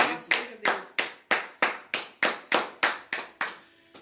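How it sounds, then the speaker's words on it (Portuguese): A church congregation claps in unison, about ten sharp, evenly spaced claps ringing with a short echo, steady and loud from start to finish. "E aplaudir o Senhor nesse momento"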